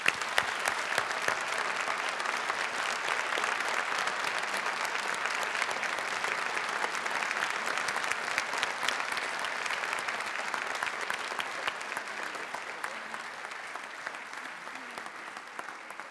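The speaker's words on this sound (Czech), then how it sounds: "Takže prosím, velký potlesk pro všechny." Audience at the Miss Academia 2013 gala evening giving sustained applause, a dense, even roar of many hands clapping that continues steadily for the whole stretch and eases slightly toward the end.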